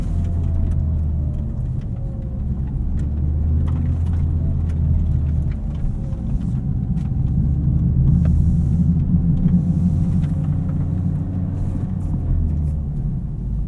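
Inside an FL5 Honda Civic Type R on RE-71RS track tires, the tires roll over rocks with a constant loud low rumble and scattered crunching ticks of stones.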